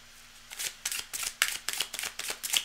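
A deck of cards is shuffled in a steady series of about eight crisp riffle bursts, each a sharp papery flutter with a quick pause between, up close and loud with no talk.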